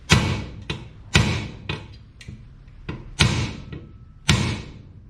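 Sharp metallic hammer taps on a stuck rear-end part of a Honda CBR250RR MC22 motorcycle, about six spaced blows with some quick double hits, close and loud, with short ringing decays and no talking.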